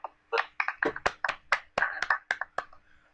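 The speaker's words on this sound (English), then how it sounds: "can we get a round of applause for him?" A handful of people clap sparsely for a few seconds at a card game tournament match, irregular individual claps close by in an otherwise quiet room.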